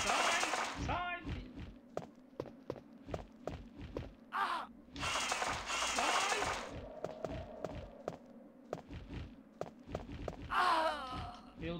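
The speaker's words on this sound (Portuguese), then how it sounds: "Devia ter atirado nesses corvos." Crows cawing in the video game Resident Evil played on PlayStation 3, several harsh caws standing out among repeated thumps and game effects while a player reacts in between.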